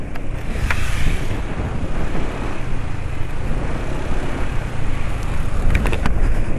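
Loud engine idling close by with a rough, rattling clatter after an oil change, steady throughout, occasional sharper ticks near the end.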